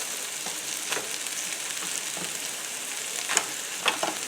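Steak-umm pieces fry with peppers and onions in a pan, a steady close sizzle with a few brief clinks of a utensil near the end, no talking.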